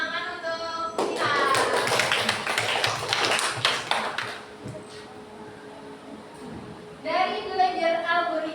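Students in a coding and AI classroom lesson clap together for several seconds, crisp and close, with a teacher talking before and after the applause.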